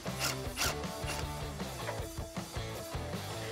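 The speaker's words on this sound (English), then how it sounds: "with your 10 millimeter socket, loosen the nut" A 10 mm socket wrench loosens a nut on the rear spoiler of a 2015-2021 Mustang Fastback. Close, continuous mechanical ratcheting and rubbing comes in quick uneven strokes, with no talk.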